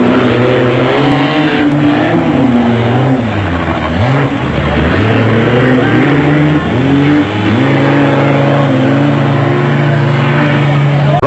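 Off-road race cars, a Pennzoil Land Rover and Raceco buggies, roar at a river crossing and slope during a 1997 Toyota 1000 desert race, with steady loud engine drone and rising, falling revs throughout.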